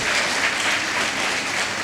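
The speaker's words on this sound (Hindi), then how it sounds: "तो सब लोग एक बार ताली बजाइए जो लोग इस हॉल में हैं अपने लिए" Audience applause inside a hall, a dense, even wash of many hands clapping at once, steady and fairly loud across the short stretch with no talk.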